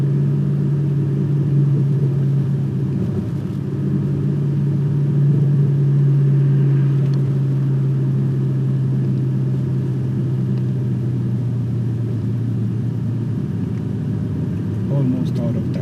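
Audi S8 engine rumbling as the car accelerates, a steady low drone with a sustained hum that rises slightly in pitch, heard from inside the car over continuous road noise.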